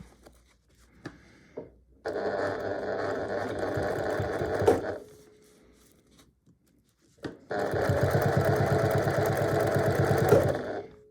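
Two steady runs of a sewing machine stitching a square pot holder at the corner, each lasting a few seconds, separated by a quiet pause with light clicks and handling.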